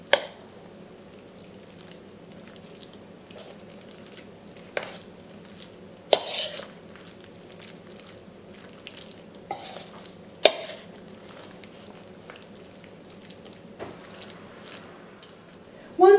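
Potato salad ingredients are stirred together in a bowl, a quiet continuous scraping and mixing with a few sharp utensil clinks against the bowl scattered throughout, close by and without speech.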